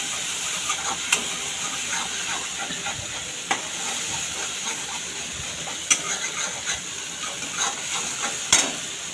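Spices stirred and roasted in a hot pan for bread pakora, giving a steady close sizzle and hiss with occasional sharp scrapes and clicks of the stirring spoon, no voices.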